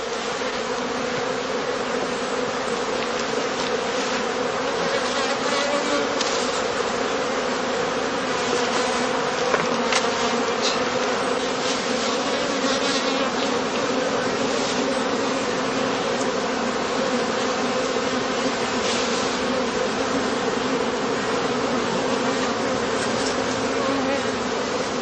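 Honeybees from heather skep hives in a large apiary of about 700 colonies give a dense, unbroken, loud drone throughout, with no voices.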